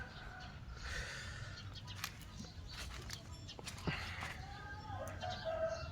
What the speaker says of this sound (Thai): ไก่กา